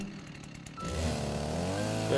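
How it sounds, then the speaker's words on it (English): A chainsaw in the video game Rust starts up after a quieter stretch and then runs steadily at a loud, buzzing idle for the rest of the moment, alone with no talk. "I'm gonna get myself a chainsaw this time."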